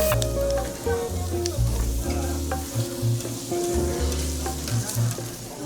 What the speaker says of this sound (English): Hope you can hear this sizzling.